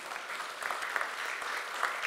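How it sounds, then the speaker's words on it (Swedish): An audience at a Swedish award ceremony for a writing prize applauds, a soft, distant patter of clapping that swells in small bursts and continues evenly throughout. "Det kan väl vara värt en applåd att uttrycka det där"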